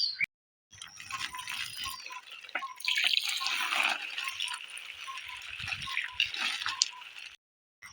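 Tap water runs and splashes steadily over hilsa fish being rinsed in a sink, with scattered drips and light rattles, close by, briefly silent at the start and end.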